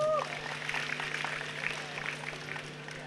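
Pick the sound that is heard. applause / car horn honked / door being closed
applause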